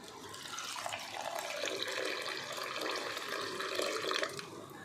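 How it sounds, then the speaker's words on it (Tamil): Water poured into a cooking pot of washed wheat and beans for wheat pongal, a steady close splashing pour running the whole time without pause. "தண்ணி ஊற்றிக்குவோம்."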